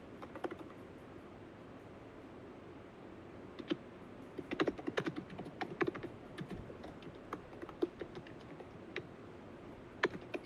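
Quiet computer keyboard typing as an outcome name is entered, irregular clusters of light key clicks with brief pauses between bursts.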